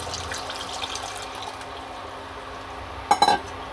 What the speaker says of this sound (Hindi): हम इसमें ये मैश करा हुआ पानी डाल देंगे